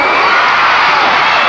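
Wrestling arena crowd at a championship bout roaring, whooping and cheering loudly and steadily throughout, a dense wall of excited voices with no pauses.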